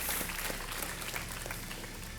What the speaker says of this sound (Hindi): तालियों के साथ अभिनंदन